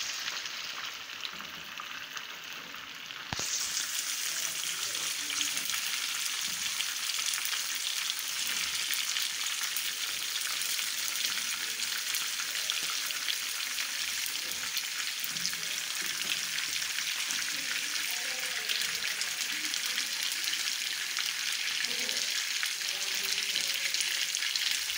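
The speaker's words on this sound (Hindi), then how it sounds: "हमें 5 से 7 मिनट हो गए इसको फ्राई करते हुए और बहुत खूबसूरत गोल्डन कलर आया" Chicken karahi frying in ghee for a Charsi-style karahi, a dense, steady sizzle that jumps louder after a few seconds and then holds evenly, close and loud with no talking.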